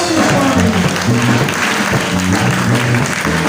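A church congregation applauds loudly and steadily throughout, dense clapping under harmonic tones from music or singing.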